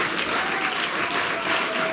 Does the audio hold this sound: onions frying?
no